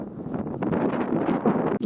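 Gusty headwind buffets the microphone of a cyclist riding north in Kyushu, Japan, in uneven, rumbling bursts, loud and close, with a brief dropout near the end.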